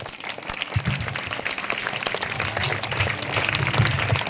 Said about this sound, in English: Give her huge round of applause.